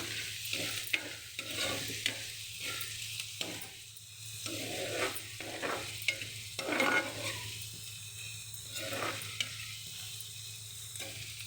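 Sliced onions with turmeric softening in a pan over low heat, a steady soft sizzle broken by repeated scraping stirs of a spatula, close and alone without talk.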